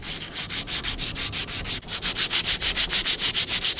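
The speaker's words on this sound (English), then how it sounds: "Now I'm just gonna take some sandpaper and" Sandpaper of 220 grit rubbing back and forth over an old hatchet head, close and steady, with a brisk, even rhythm of rasping strokes and a brief pause partway through.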